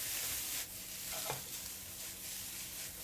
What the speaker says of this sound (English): Loosen up the noodles with a pair of chopsticks.